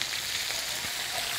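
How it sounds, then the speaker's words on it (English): Meatballs browning in a hot frying pan give a steady, dense sizzle and crackle throughout, close and even in level with no voices. "You do want to turn your meatballs. You want them to brown on all sides."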